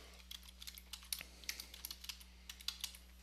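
Short burst of typing on a computer keyboard while naming a symbol in Adobe Flash CC, quick light key clicks in irregular runs, close and fairly quiet with no talking.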